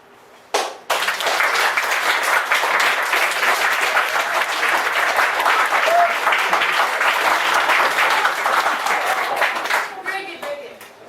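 An audience at a big musical production breaks into loud, sustained clapping that swells quickly and holds for about ten seconds before tapering off, with a faint voice near the end.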